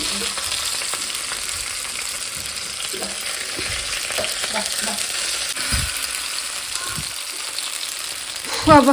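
Masala-coated mackerel fries in plenty of oil on a tawa, a strong steady sizzle broken by repeated scraping and flipping knocks, with a louder clatter at the end.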